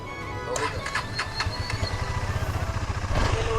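KTM Duke 250 ABS motorcycle with a weak, run-down battery starts up and settles into a close, steady thumping idle, with someone talking over it.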